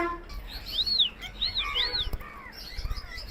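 Tame white lovebirds chirp in a series of clear, bright up-and-down calls, three prominent ones close together, over a busy aviary background with low rumbling noise.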